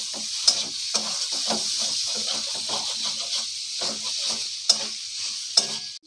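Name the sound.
sautéing chicken with kabuli chickpeas for ghugni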